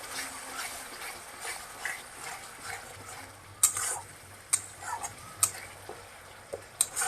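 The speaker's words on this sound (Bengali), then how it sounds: "এবার এটাকে ভালো করে নেড়ে মিক্স করে দিব" A spoon stirs and scrapes curd into fried spice masala in a pan for a katla fish curry. A soft background sizzle runs under it, broken by several sharp scraping clatters in the second half.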